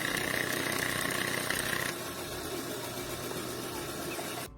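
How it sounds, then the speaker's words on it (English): A car engine with a rattle that got worse after a recent oil change runs steadily with a dense, gritty knocking texture. The tone shifts slightly partway through, then cuts off abruptly at the end. "this customer complained about their engine rattling more after a recent oil change"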